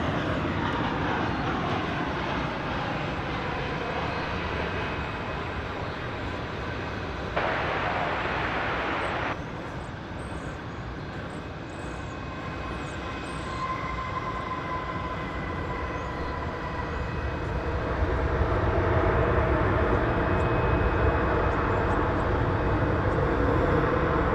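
A jet airliner arriving from Querétaro at DFW Airport roars steadily and loudly throughout, a broad continuous engine rumble that swells slightly toward the end.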